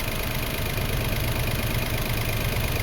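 A 2005 Toyota Passo engine with a weak fuel pump runs steadily and close by as throttle is applied, a continuous mid-pitched hum that holds even without a clear rise in revs.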